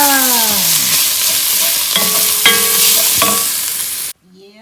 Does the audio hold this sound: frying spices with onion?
yes